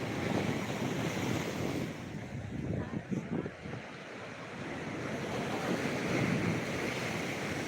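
Rough full-moon surf at Digha beach roars close by on a windy night, with heavy waves surging and crashing continuously while gusts buffet the microphone with low rumbling noise.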